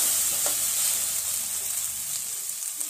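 Vegetables stir-frying in a pan for Indo-Chinese veg hakka noodles give a steady, close, full sizzle that hisses continuously throughout, with a few faint clinks and no talking.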